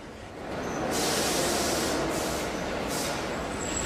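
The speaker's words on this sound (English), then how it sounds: "This is the sound of the New York subway heard by a young person." A loud, rushing subway train roars with broad hiss and rumble, punctuated by bursts of high screeching and air-brake sprays.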